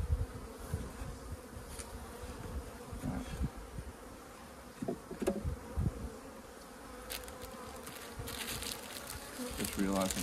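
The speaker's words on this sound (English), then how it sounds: "This one looks like it's got more bees." Honey bees buzz steadily around a winter nuc hive, a close, dense drone with occasional louder passes and brief handling noises, with a short spoken word.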